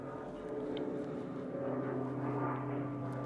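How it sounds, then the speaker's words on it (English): A low-flying aircraft passes overhead outdoors, a steady droning engine rumble heard at a distance that holds for the whole stretch. "I'll wait a second before taking off as I can hear an aircraft."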